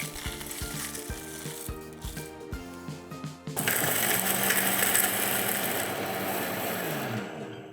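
An electric grinder whirs loudly and continuously for the last few seconds as it grinds whole spices into garam masala, following a stretch of clinking and tapping sounds.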